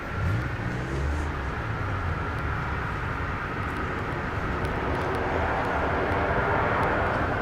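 A Cathay Pacific Boeing 747 on the runway at Brisbane International Airport gives a steady, loud broadband engine roar that holds throughout, with a faint low rumble underneath.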